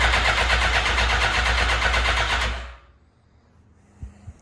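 A 2006 Suzuki GSX-R 1000 motorcycle engine cranking with a rapid, loud, rhythmic starter churn for under three seconds, then cutting off into near silence with a faint click after.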